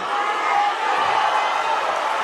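Dense, steady roar of a boxing arena crowd cheering through a fight as one fighter staggers under punishment, loud and continuous, with a commentator's voice faintly woven through the noise.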